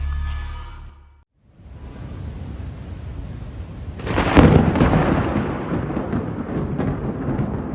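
Rolling thunder from a thunderstorm swells after a brief quiet gap into a loud, broad rumble with a sharper crack near the middle, then lingers as a long fading roar.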